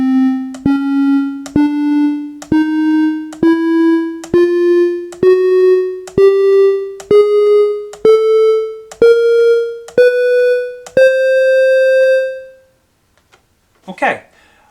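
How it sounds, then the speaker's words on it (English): A keyboard plays a chromatic scale: thirteen evenly spaced notes rising step by step in pitch, each a bright sustained tone, followed by a brief noise after a pause. "Let's bring up the chromatic keys, and I'll play you the chromatic scale."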